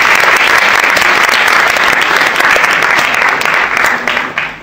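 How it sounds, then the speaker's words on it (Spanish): Steady, dense applause fills a hall for the Portuguese consul at the opening night of a Portuguese film week hosted with the Portuguese embassy, holding loud throughout before thinning slightly at the very end. "Aplauso."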